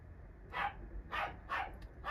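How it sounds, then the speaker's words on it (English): Dogs barking at a distance, three sharp barks in quick succession, faint and slightly muffled over a low background hum, with no voices. "And there goes the dogs."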